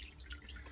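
A few quiet drips of water in an off-grid aquaponics system, brief and close over a low background hum, with no speech.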